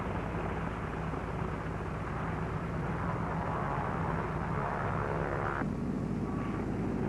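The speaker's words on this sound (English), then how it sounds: "Navy F-6F mother control planes are catapulted from the carrier's flight deck." A continuous roar of Navy F6F aircraft engines as planes are catapulted from an aircraft carrier's flight deck, broad and noisy, holding steady with a slight shift near the end.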